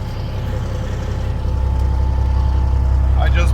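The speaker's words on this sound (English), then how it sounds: "I just backed it out of the shop on its own." A Peterbilt 379 truck reverses out of a shop under its own power, a deep rumbling diesel that swells steadily louder, with a brief squeal near the end.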